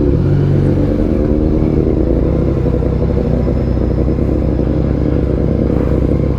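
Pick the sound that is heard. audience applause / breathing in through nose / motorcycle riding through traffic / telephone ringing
motorcycle riding through traffic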